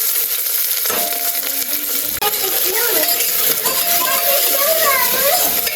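Onion and cumin hit hot oil for spaghetti thukpa, a loud sudden sizzle that settles into steady frying hiss, close by, with voices chatting over it.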